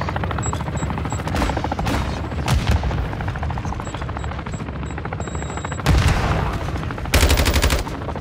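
Continuous rapid gunfire from Call of Duty DMZ rattles throughout, with automatic bursts and heavier booming shots layered together and several louder volleys standing out.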